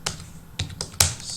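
A password is typed on a computer keyboard: four or five quick, close key clicks in an uneven burst, the last one sharper, with no talking.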